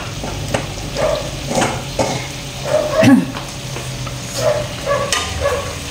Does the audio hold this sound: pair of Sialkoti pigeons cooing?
no